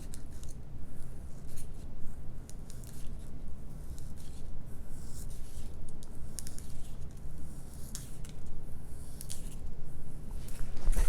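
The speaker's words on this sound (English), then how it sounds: "we're going to cut a bevel all the way around the outside edge" A blade cuts a bevel around the edge of a foam part for a Mighty Mini FW-190 model kit, producing soft, close scratchy scraping strokes in a quiet room without talk.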